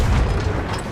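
A single deep cannon boom from a ship in Sea of Thieves, loud and heavy, with a low rumbling tail that fills the whole moment.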